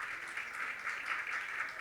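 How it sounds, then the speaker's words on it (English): Audience applause after a live performance, a brief, even burst of many people clapping heard from within the room. "Can we give another round of applause for that wonderful performance?"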